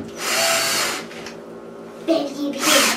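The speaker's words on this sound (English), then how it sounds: "I'm gonna use the cordless drill to run these down quickly." A cordless drill whirs in two short bursts, about a second each, driving screws, with a voice speaking in the gap between them.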